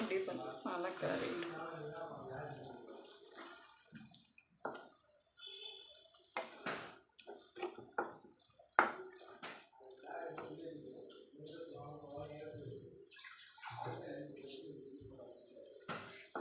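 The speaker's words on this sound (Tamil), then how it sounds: "கொஞ்சம் லைட்டாக தண்ணி ஊற்றி வச்சுக்கோங்க." Water is poured lightly into the masala for an egg and drumstick curry, with splashing and dripping heard in short bursts under steady talk.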